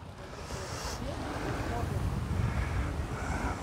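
Wind and surf wash steadily along the Baltic Sea shore beside a seaside promenade, a continuous low roar of waves mixed with gusty wind rumble on the microphone.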